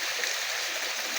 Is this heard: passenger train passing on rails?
no